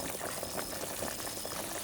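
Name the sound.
soup boiling in a pot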